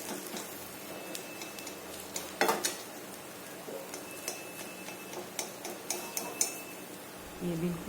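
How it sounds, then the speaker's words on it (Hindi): Knife cutting a cooked fish egg chapla into small pieces, with scattered sharp taps and clicks of the blade against a board or plate, close by, irregular and interspersed with faint background noise. "अब इस चाकू का हेल्प लेके इसे छोटे छोटे पीस में काट लेती हूँ।"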